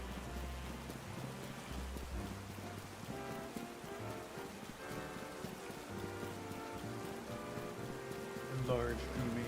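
Rain falls steadily in a Pokemon video game, a continuous soft hiss mixed with game music and a few brief chimes, with no talking.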